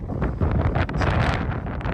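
Gusty wind buffets a microphone with rough, rumbling bursts and no voices.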